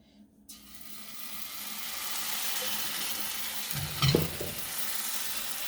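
Steady frying sizzle of cassava flour pancakes fills the pan, with a brief clatter of a utensil stirring partway through.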